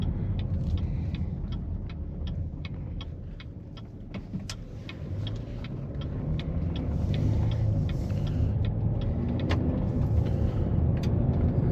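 A 2020 Chevy Blazer with newly replaced struts driving over bumps, giving a constant road rumble inside the cabin punctuated by a regular series of light knocks and thumps as it crosses uneven pavement.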